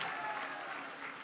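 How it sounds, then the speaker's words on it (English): Audience applause at a talk on women in community development, a brief, even wash of clapping from a crowd. "Applaudissez, applaudissez."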